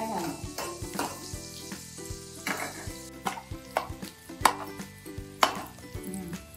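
Onions and green chillies sizzle and fry in hot oil for an egg curry, with a steady close crackle punctuated by sharp stirring scrapes and a few clinks of a spoon against the pan, and no voices.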